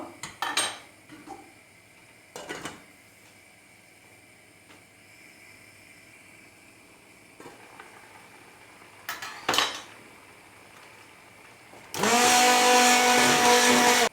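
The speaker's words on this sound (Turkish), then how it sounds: "Güzelce blender ettim." A few scattered clinks of utensils against dishes, then a loud blender suddenly roars to life blending carrots for cezerye and runs steadily at the end.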